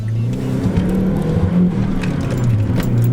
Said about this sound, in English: the engine does not run very smooth